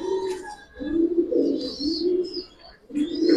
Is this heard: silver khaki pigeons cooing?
yes